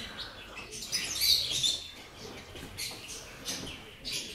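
Small birds chirp and tweet in the bird section of a zoo, scattered high calls at a moderate distance over a low background murmur.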